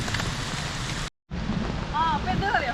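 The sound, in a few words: heavy rain on a village road in Kerala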